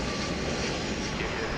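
An airliner takes off from DFW Airport at night, a dense, steady engine roar filling the air at constant loudness throughout.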